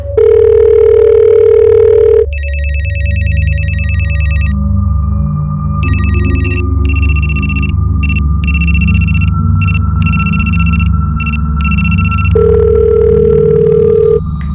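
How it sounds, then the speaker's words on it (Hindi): A telephone rings repeatedly and goes unanswered, in loud electronic bursts over a steady hum, with a dial-tone-like beep at the start and end. "फोन बज तो रहा है लेकिन वो उठा नहीं रहे।"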